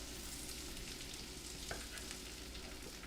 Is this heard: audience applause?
no